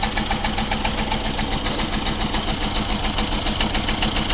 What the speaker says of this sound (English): Now we have like a dead misfire.